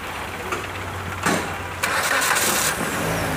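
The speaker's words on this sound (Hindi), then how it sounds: "गाड़ी चालू करो," A Maruti Swift Dzire engine cranks and catches, rising into a steady mid-pitched idle under a faint background drone, heard close with no talking.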